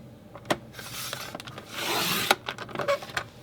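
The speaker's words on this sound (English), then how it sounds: "And I'm just going to cut 2 at 1/4 of an inch." Paper trimmer blade sliding through paper on a trimmer mat, giving a few short rasping cuts with one longer swish in the middle, quiet and close, with no voices.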